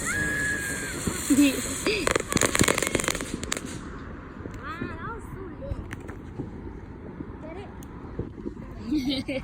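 Fireworks go off outdoors in a burst of sharp cracks and crackling pops, dense at first and then thinning out, while people talk and call out over them.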